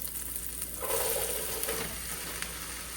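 A wooden spoon scrapes the bottom of a hot pan, producing a clearly audible rasping stroke over steady sizzling. The scrape is close and moderately loud, with no talk.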